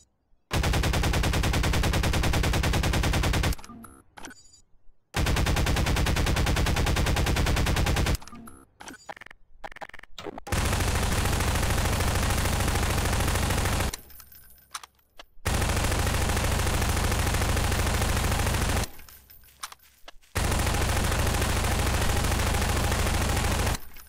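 Long loud bursts of rapid pulse rifle fire in Garry's Mod, four sustained volleys of several seconds each separated by short pauses.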